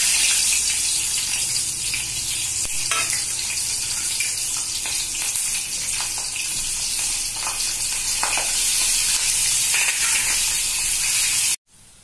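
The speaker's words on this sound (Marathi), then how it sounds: "आता आपण तळून घेऊ." Slit green chillies frying in hot oil for street-style vada pav, a loud steady close sizzle and bubbling throughout with faint stirring, ending abruptly without talk.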